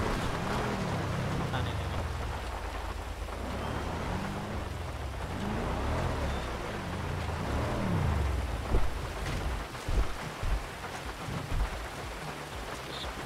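Steady video-game rain hisses with low rumbling thunder beneath, while indistinct voices talk over it near the end.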